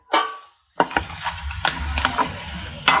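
Ingredients for spicy chicken karam podi being stirred and fried in a pan, with a burst of sizzling followed by several distinct scraping stir strokes over a low frying hiss, close and fairly loud, no talk.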